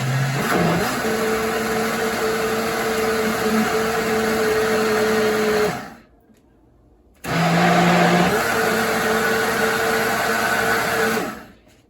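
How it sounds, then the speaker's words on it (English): A blender whirs loudly at a steady pitch, stops briefly into near silence, then starts again and runs for several more seconds. "Now we blend it all up."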